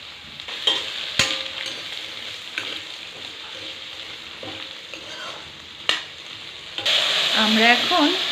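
Potatoes fry with turmeric and salt in hot oil in a kadai, producing a crackling sizzle with stirring scrapes that swells louder and denser near the end.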